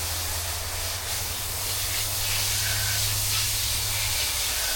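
Water rinses tannin out of a bark-tanned beaver pelt, a continuous hissing spray that stays loud and steady throughout, with a low hum underneath and no one talking.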